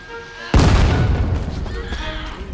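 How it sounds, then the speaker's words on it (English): A grenade explodes in the co-op zombie survival game No More Room in Hell 2, one sudden loud boom with a deep rumbling tail that fades over a couple of seconds. "somebody threw a fucking grenade"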